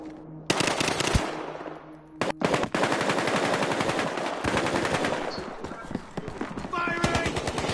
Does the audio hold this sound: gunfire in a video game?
yes